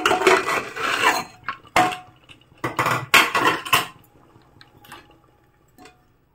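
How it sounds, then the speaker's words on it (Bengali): A pressure cooker, just used to boil ginger, is opened with a string of sharp metallic clanks and knocks of lid and pot, some close together and some spaced out, then quieter faint clinks and drips trail off. "আমি প্রেসারটা খুলে দিচ্ছি।"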